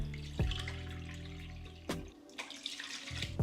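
A cup of water is poured into a pot of Haitian black mushroom rice with coconut milk, giving short splashing gushes and a few sharp knocks in a kitchen, with a steady low hum underneath.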